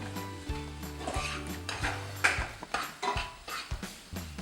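A utensil stirs onions with ginger and garlic in a pan for an Indian chicken curry, making repeated metallic scrapes and knocks in an uneven rhythm over a soft sizzle, close up.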